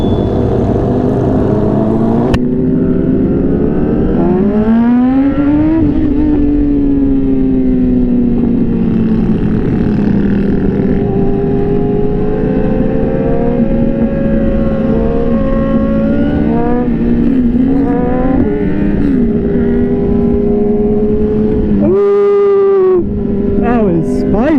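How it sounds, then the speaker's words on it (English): Group of motorcycles riding together on a sunset ride, engines droning loudly and close with rising and falling revs as bikes accelerate and shift, wind buffeting throughout, a sharp rev swell near the end. "Seems every week there's more and more bikes."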